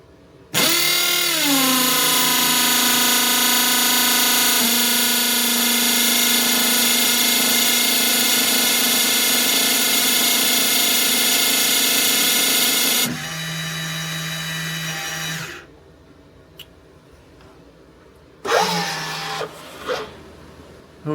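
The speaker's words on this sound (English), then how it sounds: "Go ahead and turn on the pump." An electric pump runs with a steady high whine and buzzing hum while pushing oil into an engine's oil gallery, spinning up abruptly, holding loud for about thirteen seconds, then stepping down and stopping, followed by brief clatter.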